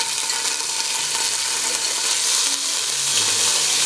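Anchovies and red chili flakes frying in oil in a pot, a steady close, loud sizzle and crackle holding throughout with no talking.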